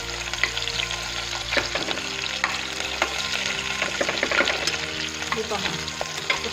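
Sliced onion frying in hot oil and ghee for a chicken biryani, a steady close sizzle with occasional stirring scrapes throughout, no voices.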